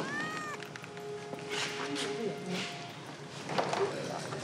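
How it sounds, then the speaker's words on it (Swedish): A cat hidden under a car's driver seat lets out a few faint meows amid people talking nearby. "Vad fan, det är ju katt där!"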